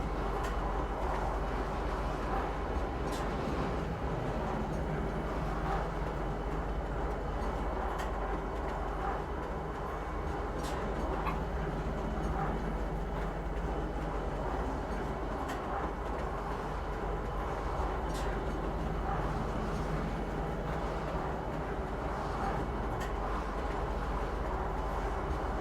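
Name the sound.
train ride arriving at Kisa Spaceport in video game Star Citizen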